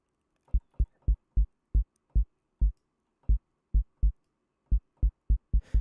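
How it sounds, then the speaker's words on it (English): Custom synthesized kick drum built in Reaktor without samples, a series of punchy deep thumps in an uneven rhythm, loud and isolated against silence. "you can hear the kick sound is really coming through a lot more than it was before"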